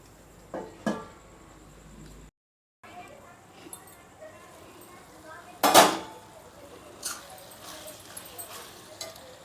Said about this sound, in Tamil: நம்ம இப்போ மூடி போட்டு மூடிடுவோம்